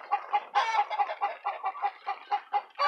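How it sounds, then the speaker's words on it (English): A hen clucks while laying an egg, a steady series of about a dozen loud, rhythmic clucks close by, with no talk over them. "I got a hen laying an egg."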